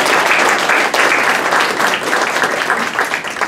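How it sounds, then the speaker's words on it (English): Audience applause for candidates at a Coronado candidate forum, a dense, steady wash of many hands clapping that fills the room loudly for the whole stretch, with no talking over it. "I'd like to ask the audience to give the candidates a round of applause."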